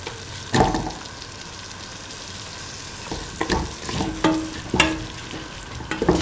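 Potato pieces fry in a pan with an egg and coconut milk mixture, sizzling steadily while a spoon stirs and scrapes in several sharp, irregular strokes close by.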